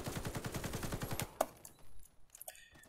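A Type 97 bullpup rifle in the shooter game Warface fires a rapid, even burst of loud automatic shots for over a second, then stops, leaving faint scattered game effects.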